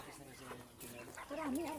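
Chickens cluck and squawk amid a busy farmyard with ducks, with a brief louder call near the end and a voice talking in the background.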